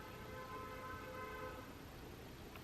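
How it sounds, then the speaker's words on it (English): A car horn honks outside a home, heard faint and distant as a steady, drawn-out tone that fades after a second or two, with no talking. "Someone's honking their horn outside."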